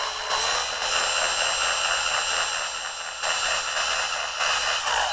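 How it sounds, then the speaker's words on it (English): Drill boring slowly into a plastic Canon imagePROGRAF PRO-1000 ink cartridge, a loud steady high whine held close, with brief dips and restarts through the run. "Make sure your drill is perpendicular to the cartridge and begin to drill very"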